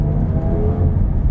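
A 2021 Jaguar F-Type R-Dynamic sports car runs with a steady, loud engine drone and low rumble throughout a short stretch, held in manual paddle-shift mode, with no voices.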